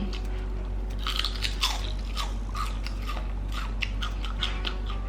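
Close, crisp crunching of truffle-flavoured Lay's potato chips being bitten and chewed, a quick run of loud, sharp snaps over a low steady background hum, with no talking.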